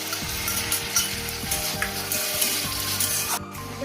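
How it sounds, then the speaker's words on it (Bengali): Sliced capsicum sizzles steadily in a hot pan for chow mein, a continuous bright crackle punctuated by scraping stirs of a spatula, close and fairly loud with no talking. "ক্যাপসিকামগুলো হালকা করে ভেজে নেবো"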